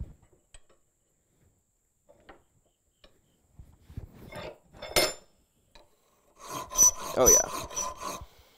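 Hand file rasping a groove into a metal wedding band in short scraping bursts, faint at first and then louder, harsh strokes near the end, with a brief spoken remark.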